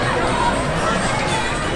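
Busy crowd at a kite festival on the beach at Lytham St Annes, a steady close wash of chatter, voices and shouts with no single sound standing out.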